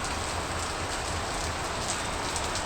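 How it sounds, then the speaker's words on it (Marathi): Even, unbroken rainfall over Konkan farmland on a third straight day of monsoon showers, a full steady hiss of drops on the ground and leaves, nearby and constant. "आणि आज सलग 3रा दिवस आहे पाऊस."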